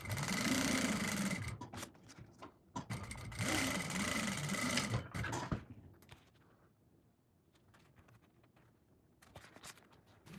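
A sewing machine edge-stitches around a fabric pouch in two long, fast, whirring runs separated by a brief stop, then falls quiet apart from a few faint clicks and shuffles.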